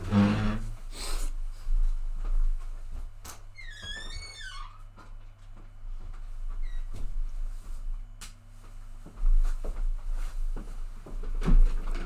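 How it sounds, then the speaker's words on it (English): Indoors, a door is opened to let a dog into the room: scattered clicks and soft knocks, a brief squeaky chirp, and low thumps near the end, with no one talking. "let me go let my dog in the room because she's scratching at the door"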